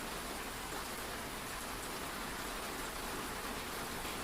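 Steady, soft rain falls continuously with an even, dense hiss and no pauses.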